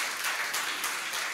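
Church congregation clapping in a brief burst of steady, dense applause, moderately loud and fairly even, no voices over it.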